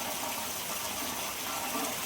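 Rainwater rushes and gushes along steadily, a close, continuous watery roar with no break.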